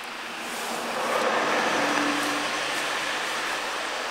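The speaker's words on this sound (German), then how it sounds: "fahren noch ein paar Autos her, wenn ihr das im Video gehört habt" Cars driving past on a road by a hiking car park, a broad, steady rush of tyre and engine noise that swells in the middle and stays fairly loud, with no voices.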